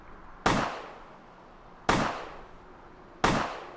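Three sharp gunshots ring out in Vampire: The Masquerade - Bloodlines, evenly spaced about a second and a half apart, each a sudden crack followed by a short decaying tail.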